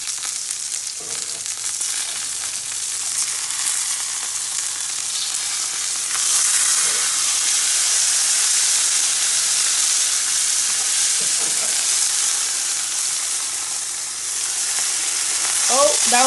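Salmon fillet frying in a pan just after being flipped, a loud continuous crackling sizzle throughout, close and dense, with a couple of faint scraping touches.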